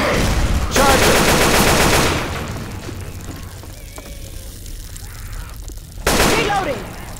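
Gunfire in the Left 4 Dead 2 video game: two loud, sustained bursts of rapid shots open and close the clip, with quieter game sounds and shouting voices between them.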